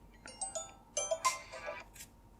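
A phone rings after being triggered by the find-phone feature of a Boat Xtend Talk smartwatch, giving a short, moderately quiet melodic ringtone with a few bright chiming notes heard alone.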